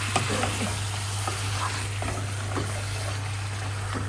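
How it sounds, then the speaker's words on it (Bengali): Chicken being sautéed and stirred in a pan in a home kitchen: a steady, loud sizzle with scraping stir strokes and bubbling, plus a constant low hum underneath, no talking. "এই যে চিকেনটা কষাইতেছি"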